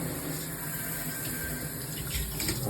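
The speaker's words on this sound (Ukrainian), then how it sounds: "Ось у нас працює водичка на склі" Water runs steadily over the glass of a shower enclosure, a constant broadband hiss and patter close by, with no talking.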